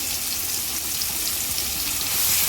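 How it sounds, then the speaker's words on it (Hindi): Onion paste sizzles in hot oil in a pan over a low flame, a steady, loud, hissing crackle throughout with no voices. "इसको हम अच्छे से फ्राई कर लेंगे तब तक, जब तक ये तेल नहीं छोड़ देता"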